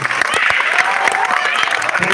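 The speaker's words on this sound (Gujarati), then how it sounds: "ક્રિસાબેન માટે એક તાળી" Audience clapping greets a young girl named Krisa as she comes onto a school stage, a steady wash of hand claps that stays fairly even throughout, with a host's voice running over it.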